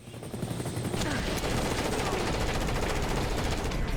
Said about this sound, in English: Why did that helicopter explode? I wasn't shooting it.